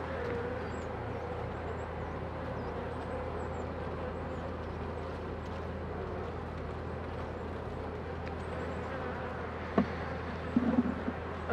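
Honeybees hum steadily around an open hive on a cool spring day at about 13 degrees, a dense, continuous drone close by with a few brief knocks near the end.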